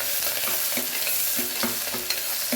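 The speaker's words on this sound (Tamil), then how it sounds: "வெங்காயம் நல்லா வதங்கணும்." Sliced onion sautéing in hot oil, a dense continuous sizzle close up with soft, regular scraping strokes of a stirring spoon through the pan.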